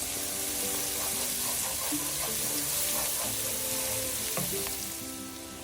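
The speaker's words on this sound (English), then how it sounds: "cook the onion for about 4 to 5 minutes until it's softened and brown." Half a diced white onion frying in a pan, a dense, continuous close sizzle with light stirring scrapes throughout, fading slightly at the end; no speech.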